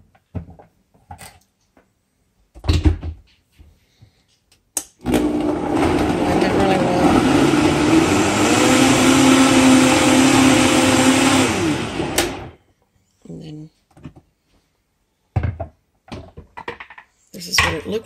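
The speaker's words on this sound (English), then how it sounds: "Then I'll throw it in the blender." A blender whirs loudly for several seconds, its motor pitch shifting as it churns mole sauce, with brief bits of talk and clatter before and after.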